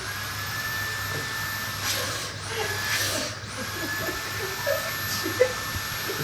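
A vacuum cleaner runs steadily and loudly, sucking air out of a bag, its motor whine rising and shifting in pitch as the airflow is strained, with a few small rustles close by.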